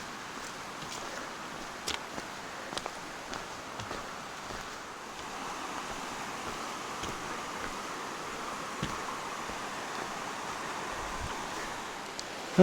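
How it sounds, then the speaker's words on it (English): A mountain stream rushes steadily with a broad, hissing wash, mid-distance, with occasional faint clicks and taps. "Good to see water coming down from the mountain."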